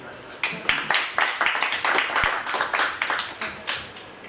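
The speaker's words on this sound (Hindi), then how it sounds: "तालियां।" A small audience at a vaastu shastra class claps in distinct, fairly regular hand claps that come through as separate sharp bursts at moderate volume, with a few voices underneath.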